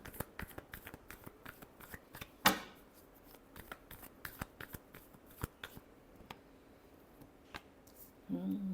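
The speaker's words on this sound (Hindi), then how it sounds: "last shuffle," Tarot cards are shuffled in a quick run of soft riffling flicks and taps, close and fairly quiet, with one sharper snap partway through and a faint voice at the end.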